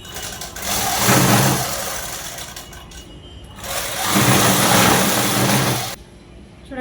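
Sewing machine running in two bursts of steady stitching along a straight seam on work pants, loud and close, with a short pause between runs.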